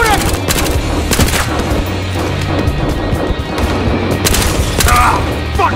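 Battlefield Hardline in-game gunfire crackles loud and close in repeated bursts of rapid shots and booms, with shouting voices over the top.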